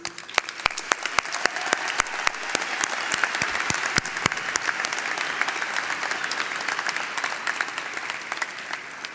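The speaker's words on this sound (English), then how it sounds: "Please, graduates, join me in a round of applause for our faculty." Graduates at a 2019 college commencement ceremony give their faculty a round of applause, a broad, steady crowd of clapping with sharp individual claps standing out, continuing evenly for the whole stretch.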